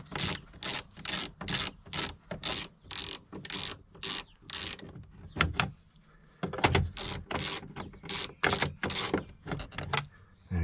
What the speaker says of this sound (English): so I've got a little ratchet here with an extension bar on. So we'll just pop that one off